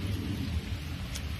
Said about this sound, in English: And y'all can see it's raining out here, right?